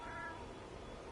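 A cat lets out a single short meow near the start, faint and brief, followed by low background hum.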